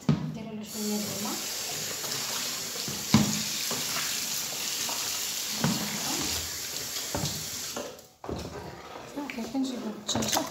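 Water runs steadily from a kitchen tap while raw chicken is being washed, a continuous hiss with brief clunks and splashes and a short break near the end, under a person talking.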